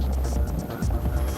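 A military troop-carrying helicopter of the Marines drones with a steady low rotor rumble and hum, loud and continuous under narration.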